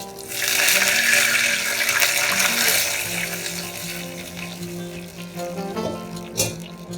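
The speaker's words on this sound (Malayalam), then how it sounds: "ഇനി ഇതിലേക്ക് നമുക്ക് വെള്ളം ചേർക്കാം." Water poured into a hot tempering of chillies and curry leaves for a Kerala pulissery (moru curry) sets off a loud, broad sizzling hiss that peaks early, then eases into a softer bubbling over several seconds.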